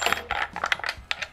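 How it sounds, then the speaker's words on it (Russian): A wrench tightens the bar nuts on a gasoline chainsaw, giving quick, bright metallic clinks and taps in a rapid, irregular series; close and fairly loud, with no talking. "Берем, затягиваем гаечки."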